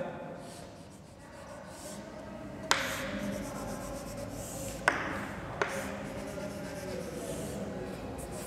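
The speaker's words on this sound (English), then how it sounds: "We have to draw the circuit diagram." A pen scratching steadily on paper while a circuit diagram is drawn, soft and continuous, with a few sharp taps as the pen strikes the page.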